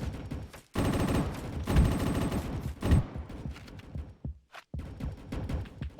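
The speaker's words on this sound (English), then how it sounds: "Oh, I'm getting shot from behind." Video game gunfire comes in rapid automatic bursts, loud and dense, with brief pauses between volleys and a few sharp single shots near the end.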